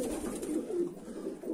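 Pigeons coo in a poultry coop, a soft, low, rolling call repeated up close with a steady murmur behind it.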